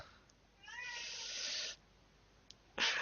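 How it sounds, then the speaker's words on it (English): A cat meows indoors, a drawn-out whining cry followed by a short, faint burst, heard alone without talk. "Sorry for the meows."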